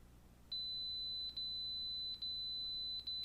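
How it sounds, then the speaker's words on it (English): Steady high electronic beeping from a camera, a sustained tone with three brief dropouts, clear and alone with a faint low hum underneath. "camera was beeping"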